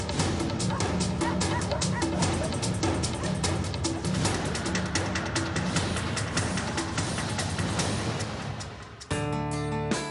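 A rabid dog lunges in an attack, giving repeated loud, close barks, yips and whimpers for most of the stretch before a brief tonal sound takes over near the end.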